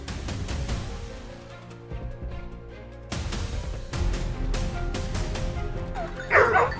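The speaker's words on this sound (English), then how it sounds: "The moment we heard fierce barking," A pack of hunting dogs barks fiercely in a dense wild area during a boar hunt, with repeated overlapping barks and yips at close to mid distance and a sharp yelp near the end.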